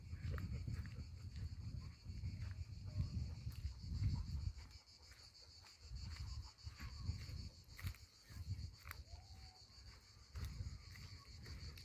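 Cicadas in the Estérel hills of southern France, a continuous high shrill drone from the surrounding vegetation, with footsteps and rustling of a walk close by underneath.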